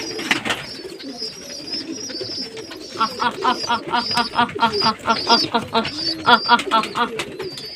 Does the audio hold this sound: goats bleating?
no